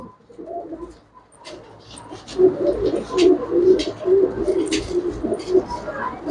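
Pigeons cooing in a loft, steady overlapping low coos that swell and continue throughout, with faint chirps and background bird activity, fairly close and prominent.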